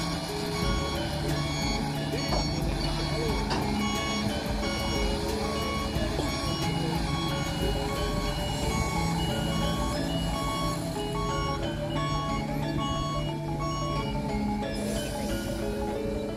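A trailer truck at a bridge girder construction site sounds its reversing alarm. The beeps repeat evenly and continuously for the whole stretch over a constant drone of engines and site machinery.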